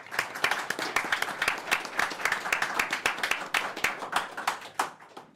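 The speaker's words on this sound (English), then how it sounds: "huge applause for Freedom of Press Foundation." Audience at the Qubes OS Summit 2024 tech conference clapping for a sponsor, a dense round of applause from a mid-sized crowd that holds steady before starting to thin near the end.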